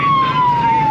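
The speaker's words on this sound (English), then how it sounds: "Go give him the siren once." A single steady electronic police siren blip, loud and close, held for about a second with a slight downward drift in pitch, over low road rumble.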